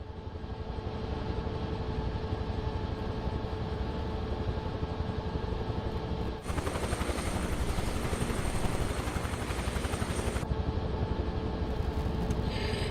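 A Huey helicopter's rotor and turbine drone steadily and loudly throughout in Microsoft Flight Simulator 2024, with a brief dip and shift in tone midway, then continuing at full roar.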